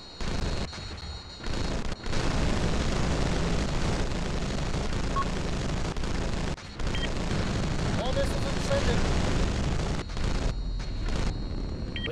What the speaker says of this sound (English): Shooting missiles.